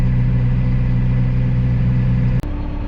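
Vehicle engine straining hard while pushing through a heavy winter snow drift, a loud, steady low rumble close by, broken by a sudden brief dip as it shifts down, then resuming at a slightly different pitch.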